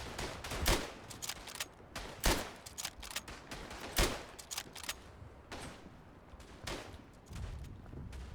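A German carbine in the Verdun video game fires rapidly in a burst of sharp, close shots spaced unevenly, roughly a dozen reports against a busy battlefield background without speech.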